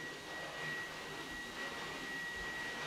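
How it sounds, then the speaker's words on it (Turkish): A household vacuum cleaner runs with a steady, even whir that holds a constant tone, moderately loud and close, without speech over it. "benim üzerime doğru süpürge geliyor"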